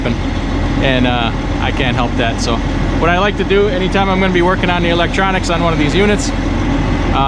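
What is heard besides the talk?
truck engine idling at a truck stop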